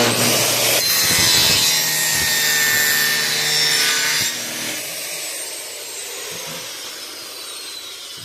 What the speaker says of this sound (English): You have a straight edge here to run your saw against.